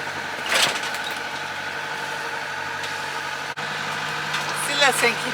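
A sailboat motors along under engine power at sea, a steady mid-pitched drone running throughout, with people talking over it and a few brief clicks and knocks.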